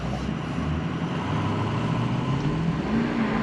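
A 6.0L engine revs at three-quarter throttle during a 5R110 transmission relearn drive, a loud sustained drone rising gradually in pitch, heard close with no talk.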